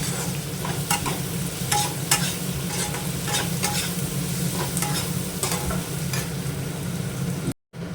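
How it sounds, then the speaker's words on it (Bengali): Garlic for dry chili chicken fries with a steady close sizzle while a utensil scrapes and stirs the pan in repeated strokes, with a brief dropout near the end. "রসুনটাকে দিয়েও আবার একটু ভালো করে নেড়ে নেব।"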